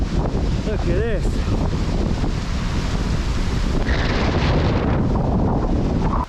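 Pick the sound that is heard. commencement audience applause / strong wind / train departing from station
strong wind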